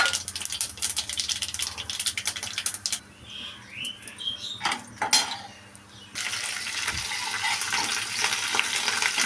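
Mustard seeds and urad dal crackle and spit in hot oil, a bright sputtering hiss that eases midway as a spoon scrapes the pan, then returns strongly, close and without talk.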